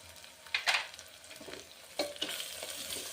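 A spoon stirs a teaspoon of turmeric into a sizzling Telangana-style mutton paya curry, with quick scraping strokes against the pan over a steady frying hiss.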